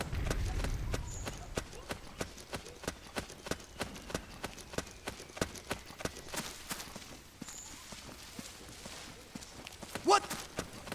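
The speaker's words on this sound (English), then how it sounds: "I hear footsteps." Footsteps in the video game Metal Gear Solid 4: Guns of the Patriots, a steady run of sharp, evenly spaced steps heard up close over a low game ambience.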